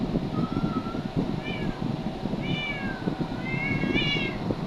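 Several cats meow while being fed, giving short rising and falling cries one after another over a background of clattering and shuffling.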